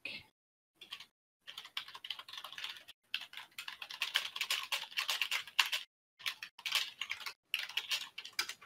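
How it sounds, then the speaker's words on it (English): Rapid clacking keystrokes on a loud computer keyboard, typed in bursts separated by short pauses, close and crisp. "my keyboard's quite loud"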